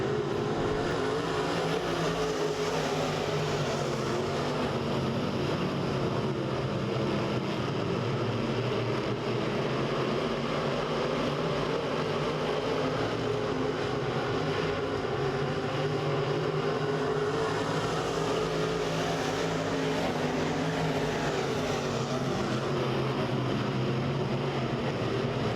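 Race cars running a heat race at Lake of the Ozarks Speedway, a continuous distant droning engine roar with layered pitch swells as cars circle the track, steady and unbroken throughout.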